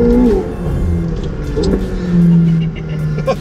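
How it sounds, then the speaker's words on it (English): McLaren 720S supercar launched at full throttle on a hot, slick surface, its engine roaring loud and close with a rising rev sweep, a brief dip and then a renewed surge, continuous throughout. "I'm literally gonna like just hammer the gas."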